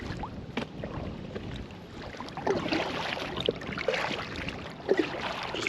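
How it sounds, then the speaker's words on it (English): Paddles dipping and splashing water as a two-person inflatable kayak moves along, a steady wash of water with a few brief splashy strokes, close and fairly quiet. "Just paddling away, Jenny."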